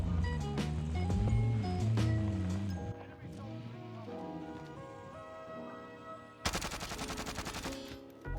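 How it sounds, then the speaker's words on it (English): Gunshots in the battle royale game Warzone break out late as a sudden loud burst of rapid automatic fire, after a stretch of tonal background sound and talk. "I shot too early and basically I missed all of my shots."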